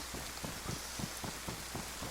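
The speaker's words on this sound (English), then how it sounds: "it seems like every time I'm streaming on here, it's got to be raining badly" Rain falls in the DayZ survival game on PS4, a soft, faint continuous hiss with regular dull thuds pulsing through it.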